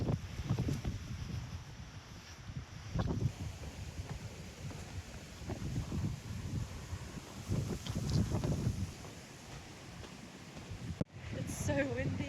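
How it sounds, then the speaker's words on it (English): Strong wind on a solo mountain hike in South Africa, buffeting the microphone in uneven rumbling gusts that swell and fade, with a voice speaking at times over it. "It's so windy."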